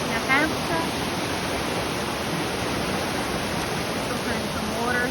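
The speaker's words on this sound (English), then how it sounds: "Beautiful brook in New Hampshire." Water rushes steadily in a brook in New Hampshire, a continuous hiss and babble, with faint voices briefly audible beneath it.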